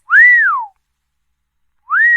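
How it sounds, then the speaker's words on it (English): A toy whistle blown twice, each a loud, clear rising-then-falling tone. The first blast is longer and is followed by a pause before the second begins. "He was so charmed by the sound of the whistle"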